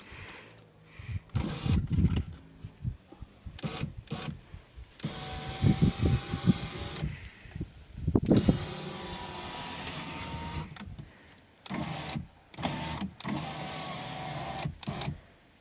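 Rear door power window motor of a 2008 Renault Koleos, wired directly, whirs in several separate bursts of a few seconds each with silent gaps between, close and fairly loud with mechanical grinding.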